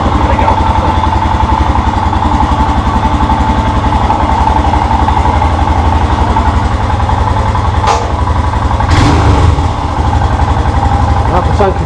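A Royal Enfield motorcycle idles in neutral close by with a steady, even thump, broken by a couple of brief clunks near the end.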